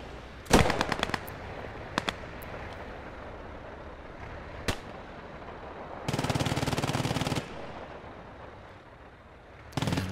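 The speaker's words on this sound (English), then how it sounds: "Some artillery coming in." Gunfire and artillery from the WWII video game Post Scriptum: a rattling machine-gun burst near the start, scattered single shots, a longer sustained burst in the middle and another brief volley at the end, over a low battlefield rumble.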